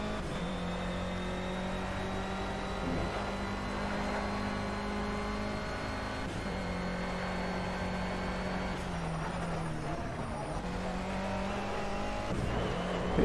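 Race car engine in the Project CARS video game, a steady sustained drone with shifting pitch as it approaches a braking zone, slight dips where it eases off, continuous and loud with no talk.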